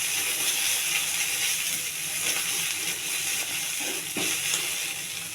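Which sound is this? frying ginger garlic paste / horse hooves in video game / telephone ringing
frying ginger garlic paste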